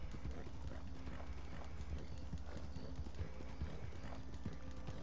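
Horse hooves clip-clop steadily in Red Dead Redemption 2, a repeated rhythmic clopping at moderate distance over a continuous background ambience, with no talk.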